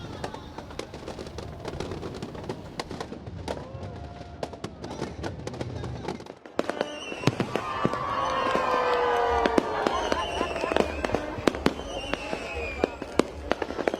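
New Year fireworks crackle and pop in dense bursts over a festive crowd, growing louder and busier partway through, with scattered sharp bangs and a continuous murmur beneath.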